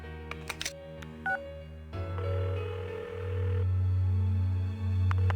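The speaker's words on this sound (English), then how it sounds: "Give her another call." Phone dialing in the video game Persona 4: a quick run of keypad tones at the start, then a steady ring tone holds over a low game music bed.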